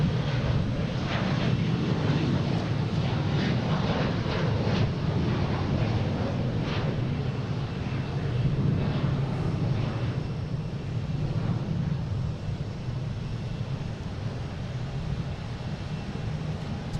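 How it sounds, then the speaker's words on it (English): American Airlines Embraer E-175 airliner at Boston Logan, bound for Harrisburg, giving a steady broadband jet roar that holds at an even level throughout, with wind buffeting the microphone and no voices. "we have American Airlines E-175 heading to Harrisburg."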